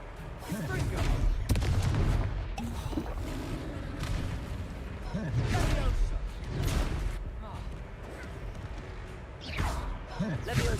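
In Hogwarts Legacy, repeated Confringo blasting spells boom and crackle in explosive bursts while a player's voice shouts over them.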